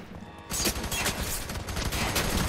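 Rapid gunfire in FEAR 3 played on Ubuntu Linux. Dense bursts of shots rattle almost without pause for over two seconds after a brief quieter start, loud and continuous.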